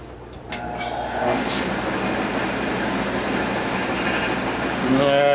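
A wooden bowl spins on a wood lathe, a steady loud whirring drone that builds slightly and holds throughout.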